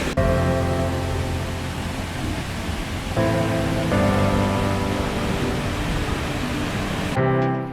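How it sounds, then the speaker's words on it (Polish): A waterfall near Emen, Bulgaria pours in a loud, continuous broadband rush heard close up, with steady tonal hum layered through the roar and no speech. "No i dotarliśmy do wodospadu, oto on."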